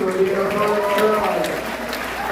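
Comedy club audience at the Tempe Improv applauds with scattered clapping and cheering, partly under a voice talking over the crowd.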